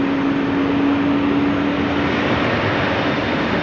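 A departing airliner climbs out from Amsterdam Schiphol on a rainy day, its broad engine roar steady and loud throughout with a faint tonal hum underneath, no voices.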